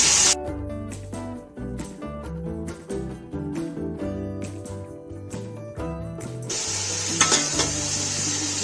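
Garlic ginger paste fries in a pan over medium flame, with bursts of sizzling at the start and a steadier sizzle in the second half, all under loud background music.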